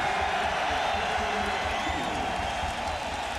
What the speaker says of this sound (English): And the biggest cheer of the night